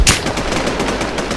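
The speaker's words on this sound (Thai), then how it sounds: "ยิงยาว" Rapid automatic gunfire from the survival shooter Infestation, a sustained loud burst of evenly spaced shots rattling for over a second with a sharp opening crack.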